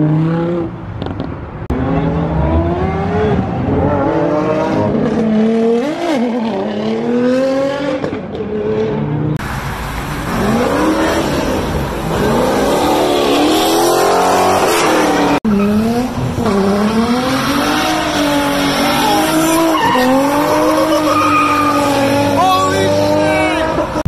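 A Lamborghini Huracan leaving a Coffee and Cars meet in Houston revs hard and skids, with rising and falling engine pitch and tire squeal, loud and near, while people talk over it.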